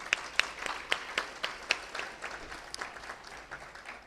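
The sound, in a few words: applause for the parents at a graduation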